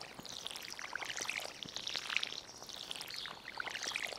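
In Stardew Valley, a watering can splashes water over a mailbox, making a continuous hissing, sprinkling pour with soft droplet patter that runs throughout, heard alone without any voices.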